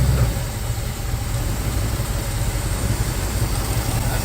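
A car engine idles with a low, steady, rough rumble and heavy shaking, pointing to a suspected torque mount fault, as it is dropped into gear; the idle holds close and constant throughout.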